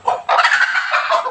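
Hens or chickens giving a loud, close burst of throaty clucking and squawking calls, brief and alone without talk.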